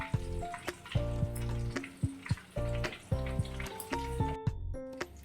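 Chicken cheese cutlets fry in a pan with a soft, steady sizzle, broken by repeated knocks and clinks from utensils set down nearby.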